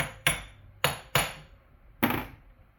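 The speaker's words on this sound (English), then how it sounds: "a common thing would be to just tap it around a little bit as you're turning the armature by hand" Four sharp hammer taps on a 1940 Packard starter as its armature is turned by hand, spaced irregularly with quick decay and fairly close, no talking.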